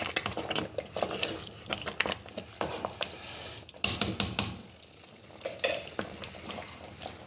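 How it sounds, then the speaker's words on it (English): Spoon stirring smoky jollof rice in a pot, a string of sharp scraping and clacking strokes against the metal in an uneven rhythm, with a faint sizzle underneath, close and fairly loud. "So I'm going to stir it."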